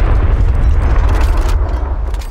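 A torpedo strikes a light cruiser in a naval warfare game, a heavy rumbling explosion with deep low-end roar sustained and loud throughout, crackling debris overhead.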